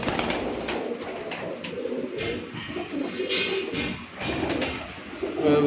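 Sialkoti-breed pigeons coo in a steady, close chorus, soft throaty calls overlapping with brief rustles and faint background noise.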